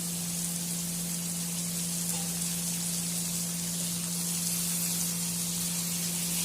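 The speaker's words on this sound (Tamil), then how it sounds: "வெங்காயம் நல்லா வதங்கட்டும்" Onions frying in a pan for a lentil-ball kulambu, giving a steady, even sizzle and hiss that runs unbroken throughout, with no talking over it.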